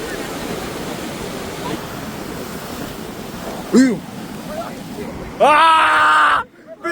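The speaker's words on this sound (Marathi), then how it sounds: "लाटा बघा ना केवढं आहेत" Surf roars continuously on a Konkan beach, with heavy wind buffeting the microphone; short shouted voices break in near the end.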